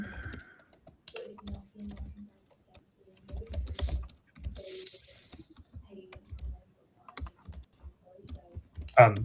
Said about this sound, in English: I could hear lots of typing there, lads.